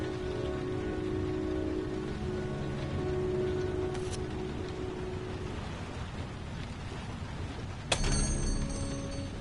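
Steady rain pours outside a store at night, a dense, even hiss throughout with a brief sharp clank partway through.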